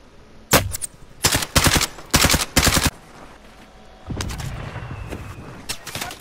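Bursts of automatic gunfire in a battle royale video game, several rapid volleys in quick succession followed by a rougher, sustained rattle of shots, loud and close with no talk.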